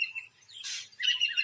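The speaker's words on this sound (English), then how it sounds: "By the sixth day, insect-eating birds find the carcass." Insect-eating birds at a lion kill give a few high chirps and a short harsh squawk, moderately close and alone in an otherwise quiet outdoor scene.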